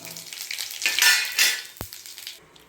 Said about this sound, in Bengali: ফোড়নে দেবো শুকনো লঙ্কা, তেজপাতা, এই যে এলাচ আর দারচিনি ফোড়নে দিয়ে দিলাম